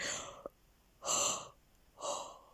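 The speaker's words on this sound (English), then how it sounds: "Oh, big yawn, double yawn." Two long, breathy yawns, each rising and fading over about half a second, with a short gasping breath before them, close to the mic.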